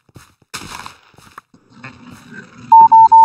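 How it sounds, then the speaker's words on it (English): Low-battery warning beeps from a gaming headset: three loud, even electronic tones in quick succession near the end, after scattered game sounds and a brief voice. "that beeping noise is my headset"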